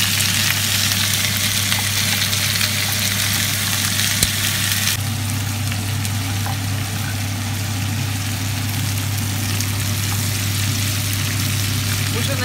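Pork fat (salo) fries in a pan for liver pâté, giving a loud, steady sizzle that runs throughout over a constant low hum.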